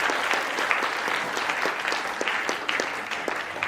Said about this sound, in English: Let's have a huge round of applause on this part